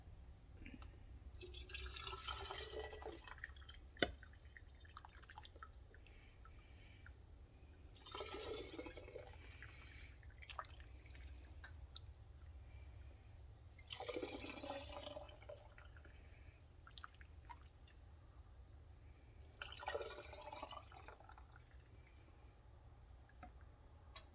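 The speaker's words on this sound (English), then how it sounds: "I'm just going to scoop it straight from the pot into this." Hot bone broth is scooped from a pot and poured through a sieve into a canning jar in four quiet, spaced pours of splashing and dribbling liquid over a low background hum.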